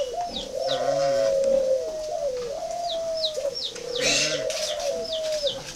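Spotted doves on a bird farm coo repeatedly while being fed, their soft rolling calls overlapping in a steady, close chorus with faint chirps in the background and no talking.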